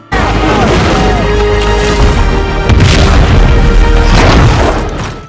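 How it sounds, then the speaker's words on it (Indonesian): A whaling ship explodes and burns in a loud, sustained roar of booming explosions that rumbles continuously with a burst of heavier blasts midway, dense and close, with no talking. "akhirnya kapal esek itu pun meledak dan terbakar kemudian tenggelam"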